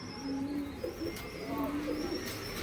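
A female pigeon coos softly in repeated low, warbling phrases, close by, with faint chirps from other birds in the background.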